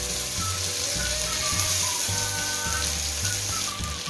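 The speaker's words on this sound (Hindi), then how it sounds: "अब इसमें हम धीरे धीरे करके अपने टिक्के डालेंगे और टिक्कों को हम इसमें फ्राई करेंगे।" Arbi (taro) tikkas sizzling and frying in hot oil, a steady bright crackle with low bubbling pulses, close and continuous without talk.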